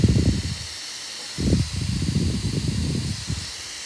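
An Asus ROG Ally handheld's cooling fan, the left one beside the SD card slot, gives a steady airy hiss, broken by low rumbling bumps.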